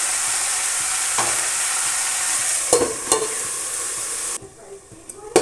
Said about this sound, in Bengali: এবার ডাটা এগুলো আলুর লগে ভালো করে নিচ্ছে